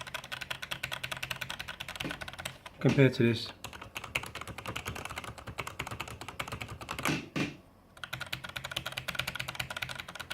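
Continuous fast typing on a Logitech gaming keyboard, dense and close, someone briefly speaking over it partway through before the clatter of keys resumes and carries on to the end.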